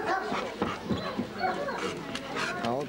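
A dog yips and whimpers in short bursts amid busy background chatter and voices at a dog show in Novosibirsk, fairly close and moderately loud.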